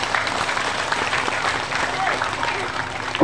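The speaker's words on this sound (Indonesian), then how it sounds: "Tepuk tangan dulu dong." A crowd at a religious lecture gives a brief round of applause, dense clapping mixed with voices and chatter, ending abruptly.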